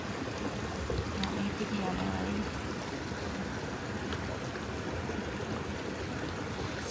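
A mountain creek flows beside a flat backcountry campsite, giving a faint, steady rushing and trickling wash with a few brief scattered sounds over it.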